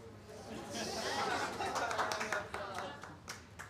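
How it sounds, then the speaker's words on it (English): Comedy club audience breaking into scattered clapping and applause, a modest crowd clatter mixed with some chatter, rising and then thinning out. "Do we have any teachers here by round of applause?"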